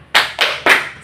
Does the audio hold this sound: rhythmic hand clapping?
yes